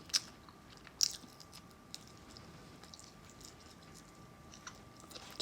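Someone chews spicy food up close, with faint, sparse crunching bites and soft mouth sounds at low level over a steady background hiss.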